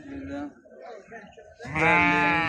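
Sheep for sale at a livestock market in Mashtaga, Azerbaijan, a ewe with lamb among them, bleat loudly nearby, a long wavering bleat rising at the end after a voice talking.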